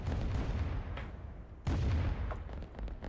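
Artillery fire in the real-time strategy game Rise of Nations, faint booming shots over a busy low battle rumble, with two sharper blasts about a second apart and a steady stream of gunfire.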